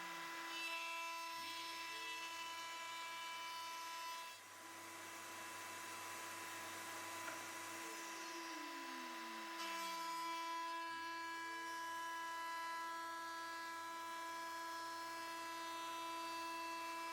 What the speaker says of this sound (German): Und an allen Innen- und Außenkanten wird auch ein Radius gefräst.